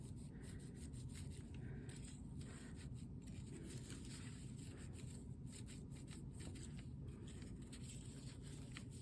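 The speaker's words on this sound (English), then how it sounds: "Start at the outside of the petal and just rub in to the center of the flower." A dyed paper flower petal is rubbed from its outer edge toward the center to curl it, giving a faint, steady, continuous soft rubbing with no voices.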